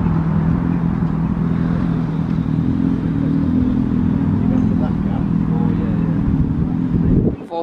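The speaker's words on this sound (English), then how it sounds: "Volvo coming in now, another regular." A Volvo truck rolls in at a classic truck show, its diesel engine giving a steady, close, throbbing rumble that runs nearly unbroken before a sudden drop at the end.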